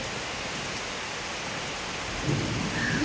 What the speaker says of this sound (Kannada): ಇವಾಗ ಒಂದು ಜೋರು ಸಿಡಿಲು ಬರುತ್ತೆ